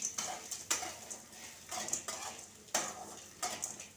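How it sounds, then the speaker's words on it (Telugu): Three or four onions frying in a pan with garlic, a soft sizzle under a few spaced strokes of a spoon scraping and tapping the pan, close but fairly quiet, with no talking. "ఒక 3-4 ఉల్లిపాయలు వేసాను, అది ఇంకా వేగనిస్తాను"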